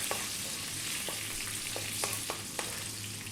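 Cumin seeds and fresh curry leaves sizzle and crackle steadily in a pan over high heat, with sharp pops scattered through a constant frying hiss, close and fairly loud, no talking.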